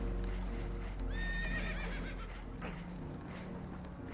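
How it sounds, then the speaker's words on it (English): Spooked horses whinny loudly in Red Dead Redemption 2 aboard a damaged boat taking on water, a shrill neigh rising over a low rumbling background with faint hoof clatter. "Horses are spooked, and we're taking on water."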